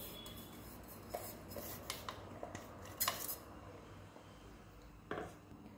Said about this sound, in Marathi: हलवत राहायचा आहे, नाहीतर मग रवा हा खाली कढईला लागू शकतो।